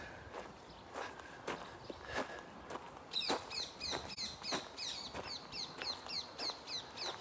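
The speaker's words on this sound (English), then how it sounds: "Hear all the birds." Birds chirp in trees outdoors with repeated quick high calls that grow busier in the second half, mixed with steady crunching footsteps close by.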